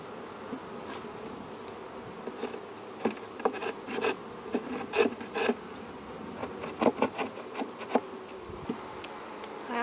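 Honeybees buzz loudly around an open hive frame being inspected, a dense continuous hum with individual bees zipping close past the microphone in sharp swells.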